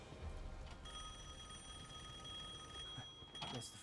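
Telephone ringing in the Devil May Cry video game, a steady electronic bell tone with clear harmonic lines sustained for about two seconds over a busy game background.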